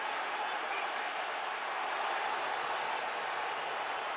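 Hockey arena crowd at a Bruins playoff game reacting to a penalty call, a steady broad roar of voices and scattered clapping filling the whole stretch without letting up.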